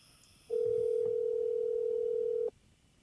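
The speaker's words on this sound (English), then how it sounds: "We're calling my buddy Josh right now." A telephone dial tone sounds as a call is placed: one steady, clear continuous tone, close and loud, lasting about two seconds before cutting off abruptly, with faint room quiet on either side.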